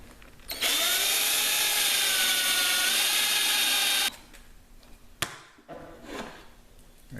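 A power drill whines steadily at high speed for a few seconds drilling a hole through a wooden board for a kayak hatch lock, then stops, followed by a sharp knock and faint handling clatter.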